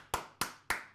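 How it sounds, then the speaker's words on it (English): Four sharp hand claps sound at an even pace, fairly quiet and close, with nothing else around them. "Round of applause, please."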